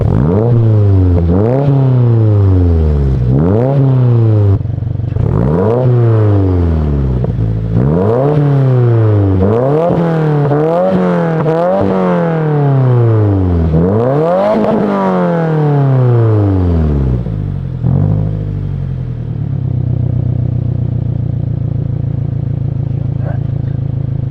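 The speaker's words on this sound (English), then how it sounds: "the sound coming out of the exhaust versus the OEM header" A 2022-2024 Subaru VB WRX fitted with a Perrin equal-length header revs hard repeatedly, about six sharp rising-and-falling throttle blips in quick succession before settling into a steady, rumbling idle, loud and close.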